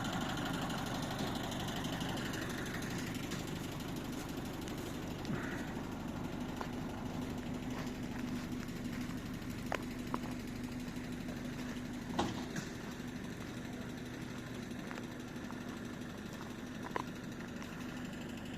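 Truck engine running steadily while hauling a light Veter all-terrain vehicle, a faint, even low hum with a few small clicks and knocks.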